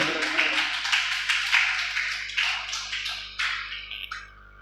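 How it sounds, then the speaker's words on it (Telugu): A church congregation claps together, a dense run of sharp hand claps that rises and falls in rhythmic surges before thinning out and stopping near the end. "చప్పట్లు కొడదామా?"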